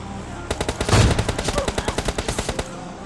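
Automatic gunfire in the PUBG Lite video game plays as a rapid burst of about twenty evenly spaced close shots lasting roughly two seconds, loud and alone.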